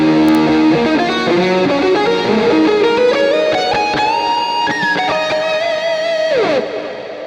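Distorted lead guitar through an Axe-Fx II with the amp driven dirty, sustained gritty notes sliding and bending upward, loud and close with heavy effects, ending on a pitch drop as it fades.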